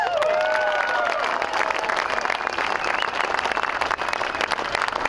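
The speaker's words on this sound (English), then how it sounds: "Give yourself a big round of applause." A rally crowd at a timber industry cap-and-trade protest breaks into loud, sustained applause with scattered cheers and a whistle at the start, dense clapping filling the space without letup.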